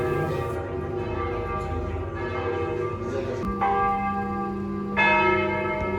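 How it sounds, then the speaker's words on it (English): A church bell rings repeatedly in Assisi, its rich, sustained tones overlapping and resonating, with fresh strikes standing out clearly above a murmur of outdoor ambience. "The church bell starts to ring as we are having ice cream."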